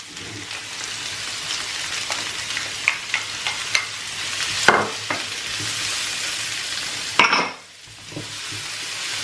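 Garlic, hot pepper, sweet pepper and curry frying in a pan as the base of a curry fish sauce, producing a loud, continuous crackling sizzle with stirring clatter and sharper bursts.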